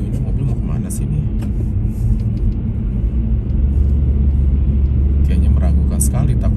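A car's low engine and road rumble drone steadily from inside the cabin as it moves slowly along a road, loud and continuous, with faint higher rattles now and then.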